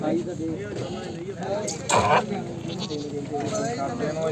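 Barbari goats bleat repeatedly at close range among people talking at a goat market, with a louder burst partway through.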